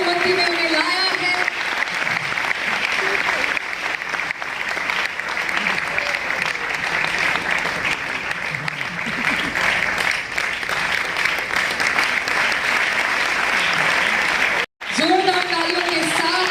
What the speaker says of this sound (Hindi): जोरदार तालियों के साथ हम इनका सम्मान करेंगे कि प्रभु ने हमारी मध्य में उन्हें लाया है।